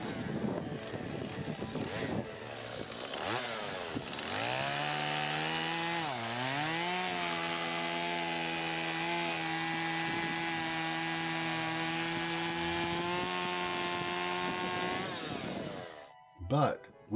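Stihl chainsaw engine after a bog-down fix, revving up to a high, steady whine that holds with no lag, then cutting off abruptly near the end with a brief clatter.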